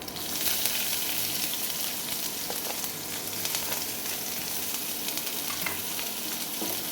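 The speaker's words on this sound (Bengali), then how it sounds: "পেঁয়াজটা আমার হালকা করে ভাজতে হবে।" Chopped onion frying lightly in a pan after a tempering of cumin seeds, a steady close sizzle with soft crackles and occasional stirring scrapes, continuous and without talk.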